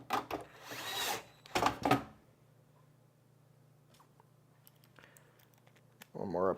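Screws are driven into a PC case during a repair. Close, short bursts of whirring and ratcheting come first, then the sound drops to a low hum with sparse small clicks before another brief burst at the end.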